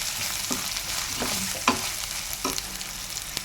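Turmeric and asafoetida powder fry in a pan while a utensil stirs through them, giving a steady close sizzle broken by several distinct scraping strokes at irregular intervals.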